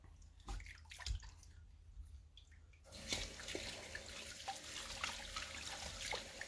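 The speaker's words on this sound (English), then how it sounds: "I clean the stone after flattening." A natural sharpening stone is rinsed under running water after flattening, first as a few scattered drips and splashes, then as a steady close stream from a tap.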